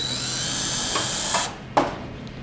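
A power drill drives screws into an AlumaVent awning, giving a close, steady whine for about a second and a half that cuts off, followed by a single sharp clack.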